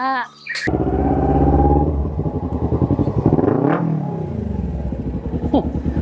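An old, worn-out motorcycle engine runs nearby with a rough, pulsing rumble that rises and falls, mixed with clattering, and voices talk over it.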